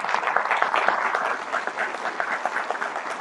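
Audience at a professional degree graduation ceremony breaks into sustained applause, a dense crackle of many hands clapping evenly throughout with no break.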